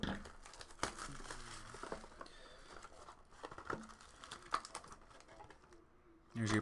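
Plastic packaging on a box of Panini Cornerstones basketball cards crinkles and crackles as it is torn open, in quick close bursts that grow louder at the very end.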